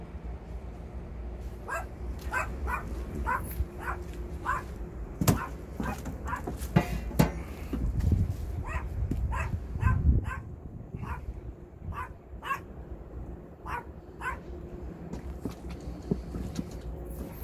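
A dog at an old riverside house in rural Bonghwa, Gyeongbuk, gives repeated, fairly close barks and yips in irregular bursts, with some whimpering and shuffling sounds in between.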